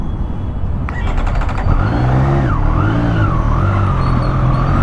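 Triumph Street Triple RS motorcycle with an inline three-cylinder engine in road mode, full power, revving loud and close, its smooth note rising and dipping as it accelerates, with a brief burst of rapid ticks early on.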